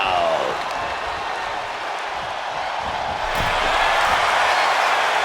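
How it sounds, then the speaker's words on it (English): A wrestling arena crowd at a live televised wrestling event roars and applauds as a wrestler plays to them, a loud sustained wash of cheering that swells near the end. "And now Jimmy Uso is playing to the crowd"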